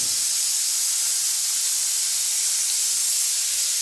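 Steady steam hiss from a pressure cooker while a dish of chopped plantain cooks, a continuous loud close rushing with no pauses and no voices.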